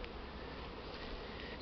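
Honey bees on a winter cleansing flight in February, a continuous close buzzing drone with no pauses and no voices.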